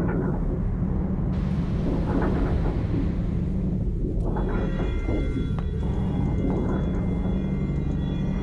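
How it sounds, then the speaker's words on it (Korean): Rolling thunder in the Taiwanese horror video game Detention, a low, sustained rumble that swells and fades over several seconds, with eerie tonal ambience drifting in above it. "아 지금 밖에 번개 쳐요?"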